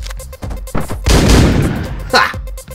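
Gunfire erupts in the top-down action game Hotline Miami, a loud, close burst of shots and rumbling blasts over the game soundtrack, with a player talking around it.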